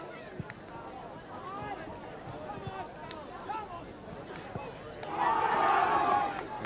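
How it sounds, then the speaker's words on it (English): St. Arnaud under-16 football boys cheer as they head out at a country grand final, a group shout rising near the end above outdoor crowd chatter and a nearby commentator's voice. "big cheer from the St. Arnaud boys as they head out"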